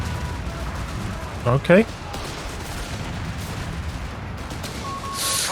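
Anti-tank rifle fire in the game Company of Heroes 3 comes as a couple of loud, sharp reports close together early on, followed by a later burst of noise over a quiet battlefield rumble, with a brief spoken word.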